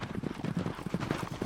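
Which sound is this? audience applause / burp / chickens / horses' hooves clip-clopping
horses' hooves clip-clopping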